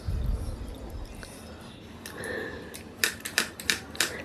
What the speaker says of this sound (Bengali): দেখুন একদম এরকম সরু সরু করে কিন্তু লাউটা কুচিয়ে নিতে